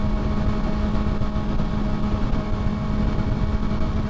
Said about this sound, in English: I think the engine's louder than the horn.